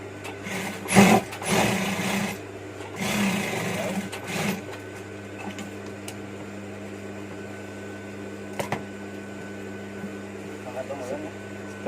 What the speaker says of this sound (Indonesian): kita jahit di bagian yang badan atau warna merahnya